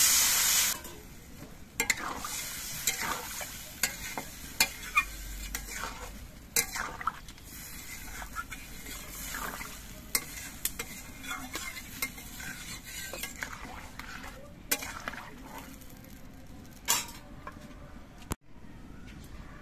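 Broth is poured into mango that has been cooking with spices for a Bengali snakehead fish curry, and the pan gives a steady, close sizzle and bubbling with scattered utensil scrapes and clinks, without speech.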